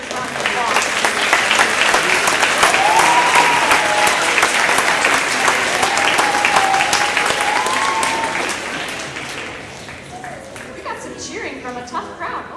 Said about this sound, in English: please give these fine people a generous round of applause